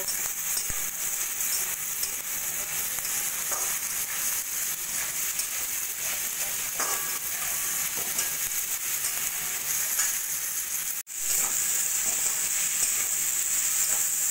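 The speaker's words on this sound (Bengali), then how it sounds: "ফুলকপি আর আলু একটু ভাজা ভাজা করে নিয়ে" Cauliflower and potatoes fry in a pan with salt, turmeric and coriander powder, giving a steady, even sizzle throughout that drops out for a moment near the end, then resumes.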